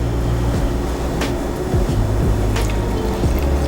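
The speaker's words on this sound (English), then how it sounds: "you're gonna hold a stick against the pot while you pour" Pickling liquid for onions poured into a jar along a stick held against it, a continuous liquid trickle with faint splashes and small clinks under a steady background hum, no voices.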